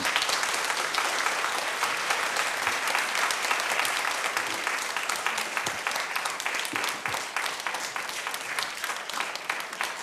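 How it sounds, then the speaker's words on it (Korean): Sustained applause from a church congregation welcoming a pastor's wife to give her testimony, dense steady clapping filling the whole stretch at even loudness. "박수로 한번 환영하겠습니다"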